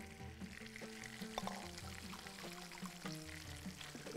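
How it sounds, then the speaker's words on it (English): Water poured into a cooking pot of Bahraini fish curry with whole onion, a steady close pour with bubbling and faint sizzle underneath, no talking. "Okay, gonna put the rest of the water."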